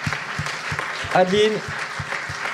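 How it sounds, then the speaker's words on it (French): Audience applause for festival volunteers arriving on stage, steady clapping throughout, with a voice on a microphone calling out names over it. "vous pouvez quand même les applaudir pendant qu'ils arrivent"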